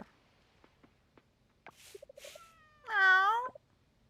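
A cartoon cat in the farming game Coral Island gives a drawn-out, wavering meow that is close and clear, after a few soft taps and short chirpy game blips.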